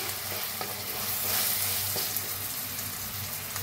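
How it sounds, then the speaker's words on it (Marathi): Onion and tomato fry in a pan for a sprouts dish, giving a steady, close sizzle with soft stirring scrapes throughout and no voices. "कांद्यासंग भाजून घेऊया। आता छान भाजले बघा टमाटो बी।"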